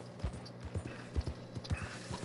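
A Clydesdale's hooves clopping in Red Dead Redemption 2, a steady walking rhythm of heavy, close hoofbeats, about five or six thuds over a low hum, with nobody talking.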